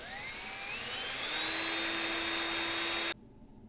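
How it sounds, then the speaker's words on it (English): A drill spins a toy Matchbox Mercury police car tire against 600 coarse sandpaper, a steady high whine that rises slightly in pitch, continuous and close for about three seconds before cutting off abruptly. "I'm going to put it in the drill with the tire on it. Some 600 coarse sandpaper, and I'm just going to spin it slowly"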